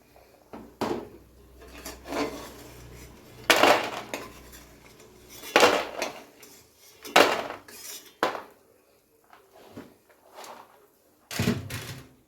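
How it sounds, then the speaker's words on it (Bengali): Fried lentil dumplings lifted out of a pan of oil, a series of sharp metallic clanks and scrapes from a spatula against the pan, spaced irregularly with quiet gaps between. "এবারে বড়িগুলোকে আমি তুলে নেব।"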